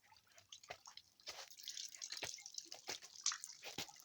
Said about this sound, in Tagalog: Kasi tumutulo yung ano, tubig.